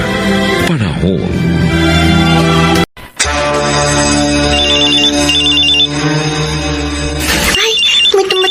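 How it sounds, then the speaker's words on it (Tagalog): A cellphone rings with an incoming call, a loud, sustained melodic ringtone playing continuously with a brief dropout partway through. "Ay, may tumatawag sa cellphone ko."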